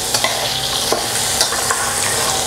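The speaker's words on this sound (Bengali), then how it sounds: "দিয়ে পনিরটাকে ভেজে নেব।" Paneer seasoned with salt and turmeric fries in a pan with a loud, continuous crackling sizzle, punctuated by brief scraping stirs of a spatula, close up and without talk.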